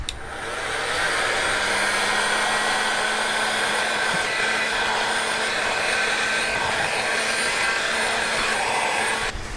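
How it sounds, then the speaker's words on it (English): A heat gun blows a steady, loud whoosh as it shrinks tubing over a crimped wire connection while walls and flooring go into a Sprinter 144 van. "now I just need to heat shrink"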